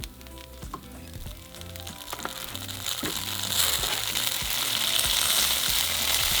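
Pork or chicken for al pastor tacos fries in oil in a cast iron pan, a sizzle that swells steadily louder and denser, broken by occasional clinks and scrapes of stirring.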